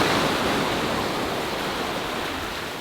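Surf breaking on Manly beach in Sydney, Australia, a loud, close, continuous roar of waves that fades slightly toward the end, with no talking.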